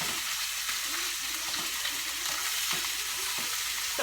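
Pork seasoned with salt and pepper browns in a hot pan for spicy pork tacos, giving a continuous, even sizzle heard up close with faint low movement underneath.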